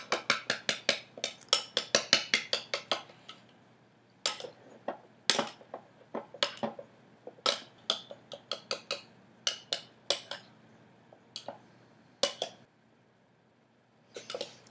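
Homemade salad dressing with lemon juice being stirred, a utensil tapping and clinking against a bowl in quick bursts of sharp, close knocks, with short pauses between runs and no talking.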